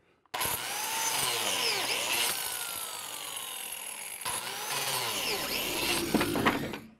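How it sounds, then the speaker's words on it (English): Biscuit joiner cutting slots in wood for a mid-century modern nightstand, whining loudly through two close cuts that each spin down before starting again. "All the cuts with the biscuit joiner are made now."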